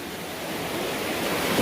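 A river flowing along the Appalachian Trail past small beaches gives a steady, broad rush of water, loud and close and slowly swelling, with no voices.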